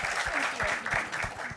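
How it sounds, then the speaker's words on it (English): Applause from a festival audience at a panel event, a brief burst of many hands clapping at moderate distance, steady and even for under two seconds. "I think that deserves a round of applause."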